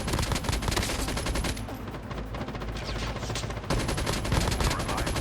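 Rapid automatic gunfire from Call of Duty Mobile battle royale play comes in dense, loud bursts of repeated shots, with a short, quieter break in the middle before the firing resumes.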